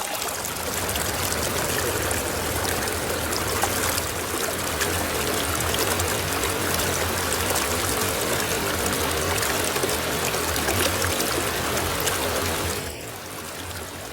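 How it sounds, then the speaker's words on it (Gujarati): Ravadiyo waterfall in the Gir forest roars as a steady, loud rush of falling water, a dense unbroken wash that holds constant throughout and dips slightly near the end. "તો જુઓ, આ છે ધોધ,"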